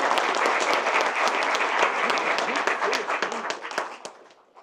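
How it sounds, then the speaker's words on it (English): A council meeting audience claps for parade winners, a dense burst of applause from a roomful of people that holds steady for several seconds and then fades away. "Let's give all our parade winners a big round of applause."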